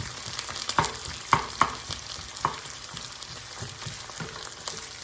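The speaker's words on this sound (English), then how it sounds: "the thinner you chop your onions, or any ingredient for that matter, the faster they saute, the faster they cook" Thinly chopped onions sizzle steadily in a hot pan while dhal curry is prepared, with occasional louder crackles and stirring scrapes over a constant frying hiss.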